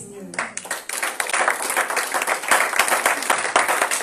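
A church congregation claps and applauds at a Sunday worship service, steady mixed clapping filling the room with voices mixed in.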